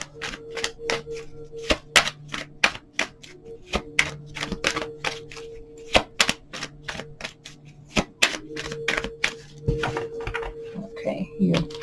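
A deck of tarot cards is shuffled and drawn, producing a long series of crisp, irregular clicks and snaps close by over a quiet background.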